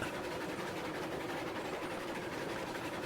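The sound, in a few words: Shay locomotive running in the video game Railroads Online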